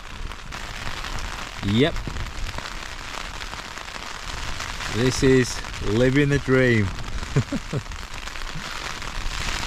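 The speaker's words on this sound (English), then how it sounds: "Weather report, it is still raining, and it is going to continue raining until morning." Rain pattering on a tent while wild camping at Sprinkling Tarn in England, a constant hiss under a man's nearby speech.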